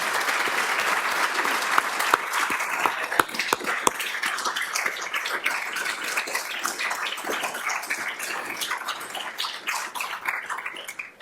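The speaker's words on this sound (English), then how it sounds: "Please, can we have a round of applause for Jane?" An audience at an annual general meeting of a medical research institute applauds steadily, many hands clapping at close range with a few sharper individual claps, fading slightly toward the end.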